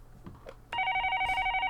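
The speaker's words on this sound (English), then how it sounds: "Phone's ringing. Pick it up." A phone in the game Higurashi When They Cry starts ringing with a steady electronic trill that continues loud and unbroken after a few quiet rustles.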